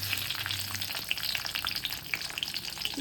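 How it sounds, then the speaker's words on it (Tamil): Fennel seeds and small onions frying in hot oil for brinjal thokku, a close, steady crackling sizzle with fine popping spatters throughout, heard alone without speech. "இப்போ எண்ணெய் ஹீட் ஆனதுக்கப்புறம் இதில் சோம்பு ஒரு கல்பாசி சேர்த்துட்டு பொரிஞ்சதுக்கப்புறம் ஒரு 10 பல் சின்ன வெங்காயம் ஆட் பண்ணிக்கலாம்"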